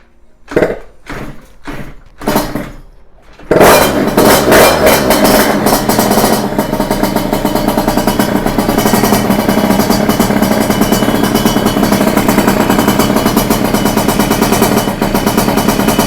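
A tuned 88cc stage 6 motorcycle engine gets a few short kicks and cranking bursts, then fires on its first start and settles into a loud, steady, raspy idle that runs to the end.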